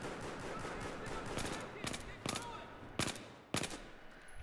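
Rapid gunfire from a hard-recoiling gun in Battlefield 4, first as a steady stream under a dense wash of battle noise, then several sharp separate shots standing out near the end.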